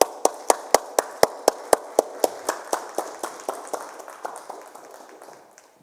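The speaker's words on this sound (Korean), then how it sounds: "나오실 때 우리 뜨거운 박수로 환영하겠습니다." Slow, evenly spaced claps ring out one by one in a church hall, about twenty of them, with a steady rhythm that gradually fades and softens toward the end.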